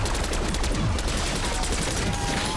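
Rapid, dense gunfire from a weapon fired from the hip in Call of Duty Black Ops 6 Zombies, loud and continuous with sharp repeated bursts throughout.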